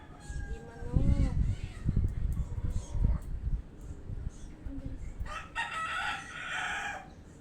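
A rooster crows nearby amid clucking hens, with background talk and other farmyard bird calls following.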